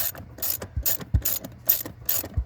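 A hand ratchet clicks in quick bursts while loosening 13 mm bolts on a Mercedes GLC 300, with repeated rapid pawl ticking and short pauses between strokes, close and clear.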